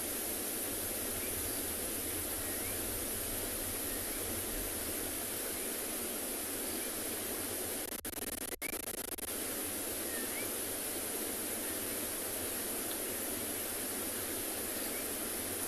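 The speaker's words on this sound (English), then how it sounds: "It has started to drizzle." Light drizzle falls during an afternoon safari in South Africa, a steady, even hiss that holds without a break through the whole stretch, with one brief soft knock partway through.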